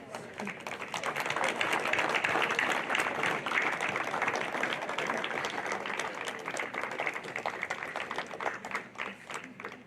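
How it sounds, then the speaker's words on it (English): Graduates and guests at a vocational center awards ceremony give a sustained round of crisp clapping that swells quickly, holds for several seconds, then gradually thins. "give the people who have supported you through your education a round of applause to show your appreciation for all of their support"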